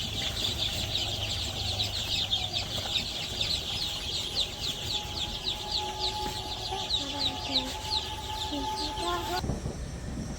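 Village chickens cluck and chatter continuously while being fed, a busy layered flock sound close by, with a person speaking briefly partway through and the sound cutting off abruptly near the end.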